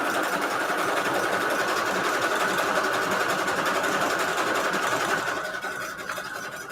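A sewing machine stitches through a junk journal cover in a steady, loud, continuous high-pitched whir, slowing and fading near the end.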